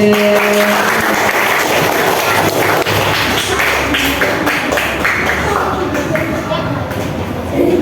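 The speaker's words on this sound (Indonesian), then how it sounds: "tepuk tangan untuk kelas 3B" A classroom of third-grade pupils in class 3B claps for their class, a loud, steady, busy patter that runs throughout alongside voices and some thumping.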